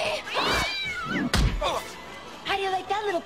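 A house cat yowls and screeches in a horror-comedy film scene, several sharp wavering cries mixed with a heavy thump and a voice.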